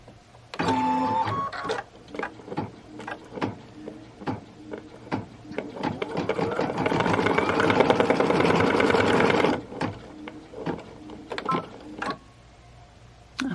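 An embroidery machine stitches placement dots in white thread for a Kimberbell Cup of Cheer project, with rhythmic needle clatter and clicks and a sustained stretch of rapid, buzzing mechanical whir in the middle, close and clear.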